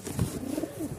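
Rajshahi giribaz pigeons, colour-matched birds, give low soft coos close by, a few rounded calls rising and falling over about a second with no voices.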